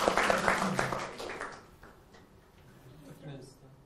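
A brief burst of audience applause at a university talk show in Kazan swells at the start and fades over about a second and a half, with a host speaking over it.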